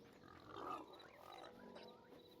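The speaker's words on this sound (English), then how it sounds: "Hey, as long as you don't bug me, pigs, I'll let you live." Pigs grunt in a video game, a single close, moderately loud snorting grunt swelling briefly and fading against a quiet ambient game background.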